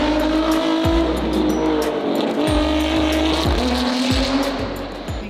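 Racing cars whoosh past one after another, several loud passes with falling engine pitch and a faint tire squeal, under a steady roar.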